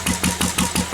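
A Lister diesel engine running close by, a loud steady chugging beat with regular pulses about every fifth of a second.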